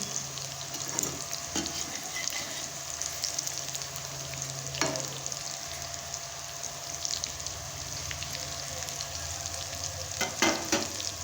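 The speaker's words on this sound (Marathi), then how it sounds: "दुसरी पण बाजू तळल्यानंतर काढून घेऊ" Vada patties for vada pav deep-frying in hot oil, a steady, close, dense sizzle and crackle that runs throughout with a few sharper bursts, no voices.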